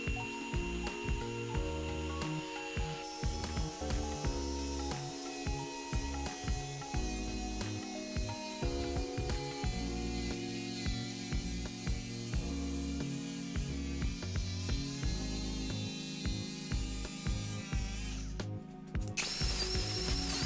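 A power tool grinds and cuts through a Subaru Brumby bumper, a loud, continuous harsh whine with shifting pitch and brief stutters, running close up for about twenty seconds before cutting out near the end.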